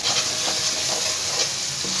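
Spice masala frying in oil for a spiced lentil and soya chunk curry, a steady close sizzle with soft scraping stirs running throughout, no talking.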